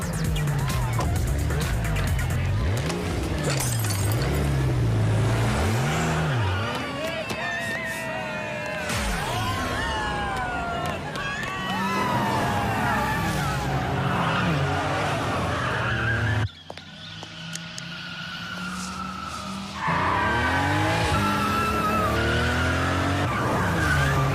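A car drives and skids in a Hindi-dubbed South Indian action film scene, with loud engine roar and tire squeals over a dense soundtrack, brief talk near the start and a sudden drop in level partway through.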